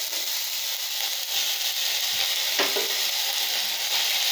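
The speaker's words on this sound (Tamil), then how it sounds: "அப்புறம் வெங்காயம் போட்டிருக்கேங்க. இந்த வெங்காயம் நல்லா கொஞ்சம் வதங்கும் போது நம்ம தக்காளி போட்டுக்கலாங்க." Onions frying in hot oil with spices and green chili for a hotel-style egg kurma, a steady close sizzle with a brief stir partway through.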